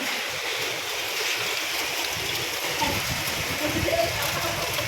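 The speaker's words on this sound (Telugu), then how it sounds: "రాళ్ళతో చాలా పెద్ద ఎత్తున వర్షం పడుతుంది." Heavy rain roars steadily in Siddipet, Telangana, with a dense hiss and scattered harder hits of large hailstones striking surfaces nearby.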